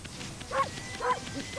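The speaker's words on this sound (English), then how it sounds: "I was just like pressing the barking in time with the music" Wolf Amaterasu barks twice in the video game Okami, two short tonal yips about half a second apart, moderately loud over quiet game music.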